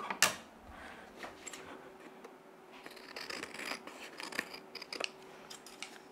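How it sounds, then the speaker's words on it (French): Scissors snipping paper while trimming pages for a Stamperia forest-themed scrapbook mini album, a few crisp, close cuts spread irregularly over several seconds in a quiet room. "je prends mes ciseaux, je coupe."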